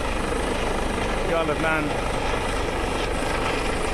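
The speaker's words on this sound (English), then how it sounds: "The helicopter is now making its final approach towards us, ready to winch." RAF helicopter on final approach to an RNLI lifeboat for a winching exercise at sea, a loud, steady rotor and engine roar filling the whole clip, with someone speaking over it.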